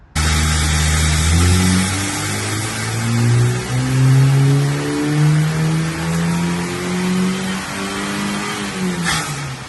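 A high-mileage VW Golf GTI Mk5 engine revs on a wheel hub dyno, loud and close, rising in stepped pulls through the gears with a droning tone that climbs and drops repeatedly.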